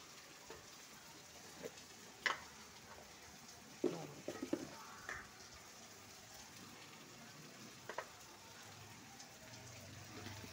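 Ground cumin hitting hot oil in a pan, a steady soft sizzle with a few sharper crackles and pops scattered through, quiet and close with no voices.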